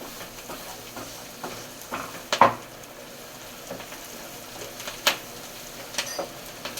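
Onions sautéing in a pan for dried fish thokku, a faint background sizzle with occasional spatula scrapes and clinks against the pan, one louder knock.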